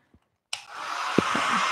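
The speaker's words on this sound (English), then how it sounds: "Hair dryer gets your painting dry really quick." A hair dryer switches on abruptly and blows steadily to dry a painting, a loud continuous broadband whoosh after a short quiet start, with a couple of faint knocks underneath.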